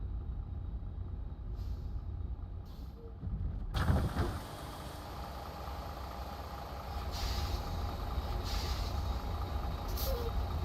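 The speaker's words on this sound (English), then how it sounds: "the sound it makes every time I release the brakes" Near-silence gives way to a sharp hiss of a truck air brake releasing in American Truck Simulator, then a steady engine rumble with a few fainter air puffs later.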